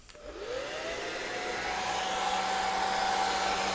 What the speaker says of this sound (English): You're going to get scared of a hair dryer.